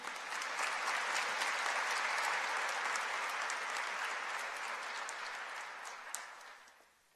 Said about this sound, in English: Please give us a round of applause welcoming Dr. Salkin to the podium.